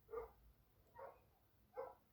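A dog left outside barks three times at an even pace, muffled and distant, with soft low rumbling underneath.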